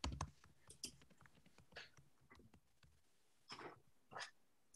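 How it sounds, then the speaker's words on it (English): Sparse keystrokes on a computer keyboard tap out in short irregular bursts, faint and close, with quiet pauses between clusters during an online physics discussion. "He's typing."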